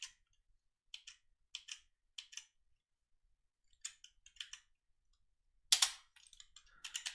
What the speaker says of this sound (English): Let's try typing it in manually one more time.